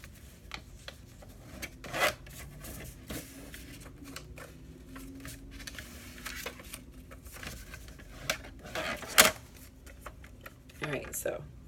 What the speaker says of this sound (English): let me crease my lines first.